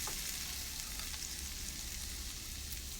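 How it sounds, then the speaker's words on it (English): Onions and tomatoes fry in a pan for a fried chicken curry, making a quiet continuous sizzle as they are stirred, with no speech. "So now I will add the tomatoes into the dish. Let's give it a stir."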